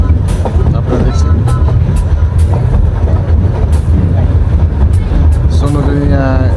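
A Llanberis Lake Railway train runs loud and close beside the lake, with a steady rumbling roll throughout and voices talking over it.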